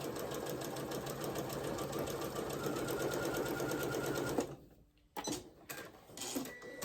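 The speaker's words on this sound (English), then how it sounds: "with a 1/8 inch seam, you're gonna sew it down" A sewing machine runs a 1/8 inch seam on a fabric star potholder with a fast, even rattling stitch for about four seconds, then stops and starts again briefly.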